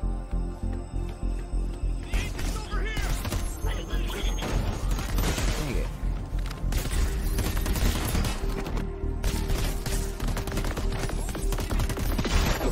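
Enemy gunfire in the video game Crackdown 3, continuous rapid bursts of shots and impacts with crashes, loud and close amid chaotic game noise, with a voice talking over it.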